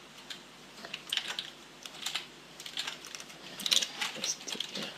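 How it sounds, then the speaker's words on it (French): Java code being typed on a computer keyboard, with quick irregular key clicks in bursts and short pauses, close and fairly quiet, no talking. "Je vais vous taper tout un truc."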